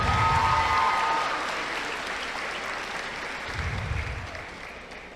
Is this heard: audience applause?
yes